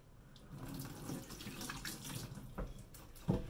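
Water running from a kitchen tap while hands are washed, a soft continuous splashing stream with small splatters, fairly faint and close, no talk.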